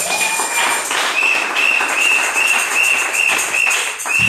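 Church congregation applauding for pastors during a service, a steady round of clapping with a sustained high whistle-like tone running through most of it.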